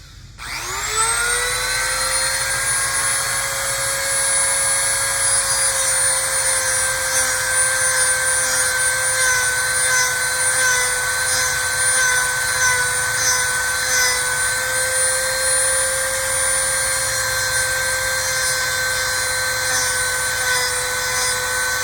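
A Dremel rotary tool pruning an American elm in late summer whines up to speed in the first second, then holds a loud, steady high-pitched drone for about twenty seconds with no talking.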